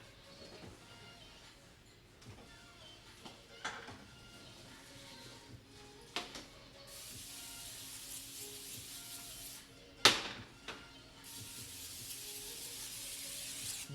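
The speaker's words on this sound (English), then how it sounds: "Did you know that they make non-stick olive oil spray?" Non-stick olive oil cooking spray hisses from a can during kitchen meal prep before cooking eggs, two sustained close bursts of several seconds each, separated by a sharp clack, over faint kitchen rustling.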